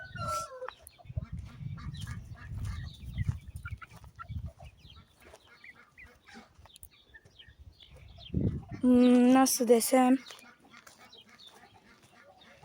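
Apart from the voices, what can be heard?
chickens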